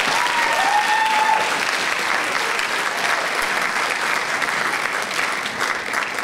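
A big round of audience applause at a spring speech night debate, dense and sustained clapping from a large crowd, loud and even throughout.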